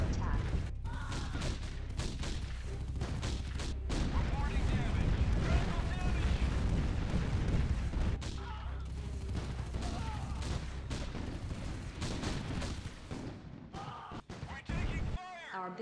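Gunfire and explosions crackle through an Art of War 3 battle, a busy mix of shots, blasts and mechanical clatter with game voice lines over it, then thinning out near the end.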